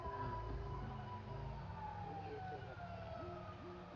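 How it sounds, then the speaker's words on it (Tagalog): A distant ambulance siren wails in a quiet Japanese street at night, its rising and falling tone faint beneath nearby voices talking over it. "Ayun, maingay? Parang ambulansya."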